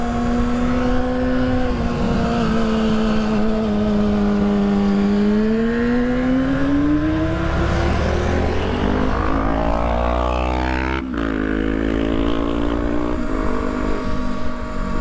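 Surron Ventus One electric dirt bike ridden hard with its wheel spinning out, a loud, continuous whine that rises and falls in pitch as it accelerates, close to the listener and without talk.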